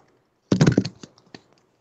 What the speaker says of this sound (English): I don't really want to do any more typing with the computer.